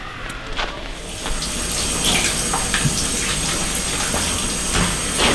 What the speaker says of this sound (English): I need to clean all of my recyclable goods and make sure they're free of dirt and grime